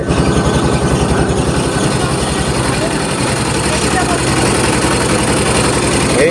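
A motor boat engine drones on the Ganges in late afternoon, a steady low rhythmic thrum heard close and loud throughout, with voices talking over it.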